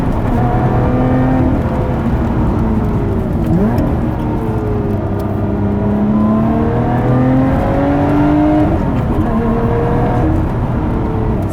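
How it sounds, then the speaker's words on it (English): A 2017 Lotus Evora 400 with a Toyota engine accelerates, a steady close engine whir rising and dipping in pitch through gear changes over constant road noise. "some pretty exotic sounds coming out of a Toyota minivan engine"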